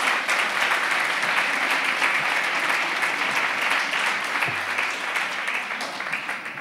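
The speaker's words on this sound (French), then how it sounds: "Je crois qu'on peut les applaudir." An audience in a hall at a round-table discussion applauds, with dense, sustained clapping that holds steady for several seconds before tapering slightly.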